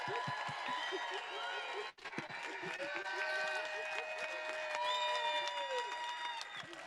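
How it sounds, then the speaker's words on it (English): Steady applause and cheering from a crowd at an outdoor rally in Edmonton, Alberta, a sustained wash of clapping with scattered whistles and shouts running throughout. "don't forget to clap really loud"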